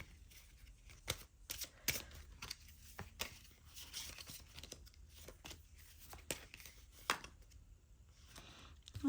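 Tarot cards are shuffled and drawn in soft, quiet riffling and snapping rustles, with intermittent crisp flicks and slides of card stock close by against a hushed background.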